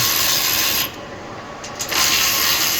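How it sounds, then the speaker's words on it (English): An 8mm socket ratchet loosening nuts on a Mopar Hellcat exhaust valve, a close rapid clicking pawl that stops briefly mid-clip and then resumes. "we'll be using an 8mm socket to remove these nuts from here"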